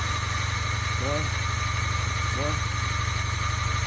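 A Polaris Trail Blazer 250 ATV engine runs with a steady, throbbing drone close by while a voice talks over it and gives throttle instructions.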